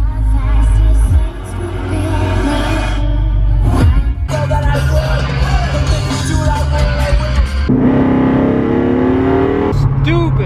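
A supercharged 2012 Dodge Charger with a 5.7L Hemi, cam, stall converter and aluminum driveshaft roars loudly through hard acceleration, engine pitch climbing repeatedly across shifts, with someone talking over the engine.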